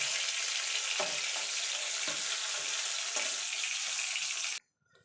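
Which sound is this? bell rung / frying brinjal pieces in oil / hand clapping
frying brinjal pieces in oil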